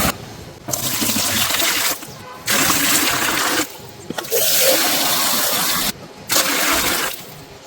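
Water gushes and splashes into a Moina culture tub in several loud bursts, each lasting one to two seconds, separated by brief pauses.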